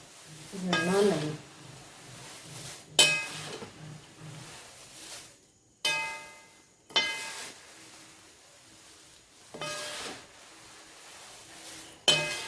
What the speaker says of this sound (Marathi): तुम्हाला पोह्यांचा बघा आवाज येत असेल